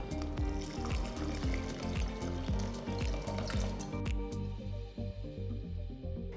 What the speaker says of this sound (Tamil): அடுத்து இதில் 1 கப் அளவுக்கு நான் தண்ணி சேர்க்க போகிறேன்.